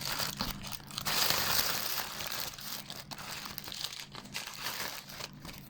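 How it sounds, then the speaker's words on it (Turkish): Cardboard and plastic packaging of a LOL Surprise toy box crinkling and tearing as it is opened, a steady close rustle and crumple throughout with no talking. "Tamam şimdi böyle hemen kutuyu açalım."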